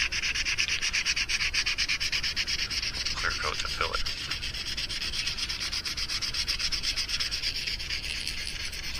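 Rapid, rhythmic back-and-forth rasping of sandpaper rubbing a hard plastic mouse fishing lure, close and continuous, with someone speaking briefly over it.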